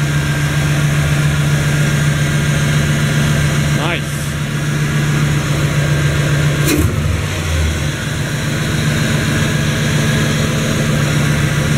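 A Chevrolet engine with an LT4 knock module fitted idles close by with a steady low drone and a few brief transient clicks and rattles.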